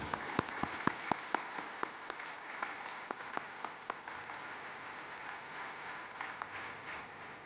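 Audience applause at a digital engineering awards ceremony, following a winner's announcement: a steady wash of many hands clapping, with sharper individual claps standing out early and the sound gradually thinning toward the end, no talk over it.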